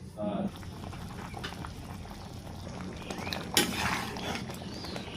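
Lentil dish simmering in a pan with water and tomato, a steady low bubbling boil running throughout, with a brief louder clatter partway through.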